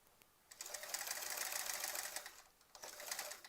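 A sewing machine stitches a Splendid Sampler 2 quilt in a fast, even whirring run, quiet but close, with a brief slowdown before resuming.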